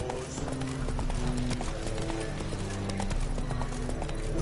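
Hooves of the horse Roach galloping in a video game, rapid rhythmic clip-clop beats running steadily throughout, close and loud, with brief voices speaking over them.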